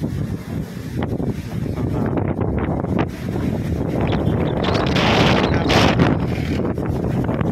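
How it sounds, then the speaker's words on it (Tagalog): Strong wind gusts buffet the microphone at a windmill farm in Pililla, a continuous loud roaring rush that swells and peaks midway, with no talk. "ang lakas ng hangin"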